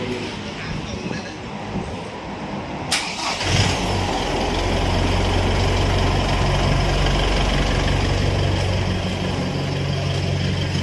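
Pickup truck diesel engine cranks over and catches at about three seconds, then settles into a steady, loud, close idle with a low rumble; someone talks over the start.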